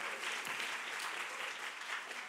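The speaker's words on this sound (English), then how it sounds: "You can applaud also for the gallerists who are here." Steady, dense applause from an audience at an art event in Amsterdam fills the whole stretch, loud and close, with no pause and no talk over it.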